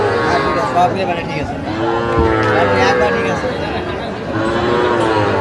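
A young bull calf moos repeatedly in long, drawn-out calls, close and loud, with people talking nearby at Ambari cattle market in Dinajpur.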